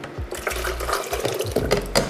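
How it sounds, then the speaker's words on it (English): Simmered coconut milk pours from a pot into a high-powered blender, a continuous splashing, gurgling stream of liquid with a few low thumps and clinks as the vessel shifts, close and fairly loud. "we're gonna pour it right into our high-powered"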